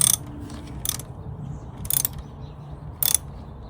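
Ratchet wrench tightening a battery terminal nut on a 2012-2015 Honda Civic, heard as three short bursts of rapid clicking spaced about a second apart over a quiet low background hum.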